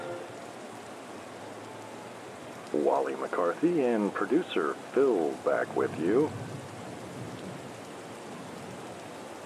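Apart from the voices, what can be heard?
light rain falling at ballfield, sleep radio effect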